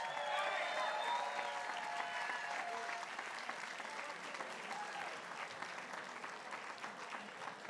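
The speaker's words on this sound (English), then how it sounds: "John Turturro, give him a round of applause." Audience applause at an Italian heritage reception, a steady, dense sheet of clapping from a crowd that carries on for several seconds, with faint voices mixed in.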